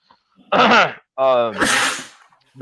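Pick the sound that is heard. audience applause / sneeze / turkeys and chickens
sneeze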